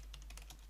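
Short, soft burst of typing on a computer keyboard, a handful of quick key taps close by over a low steady hum, with no talking.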